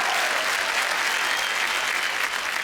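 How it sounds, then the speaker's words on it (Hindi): Loud, dense applause from a studio audience at a Hindi TV inter-school quiz show, cheering cricketer Rahul Dravid; a steady wash of many hands clapping without pause throughout. "जोरदार तालियां राहुल द्रविड़ के लिए"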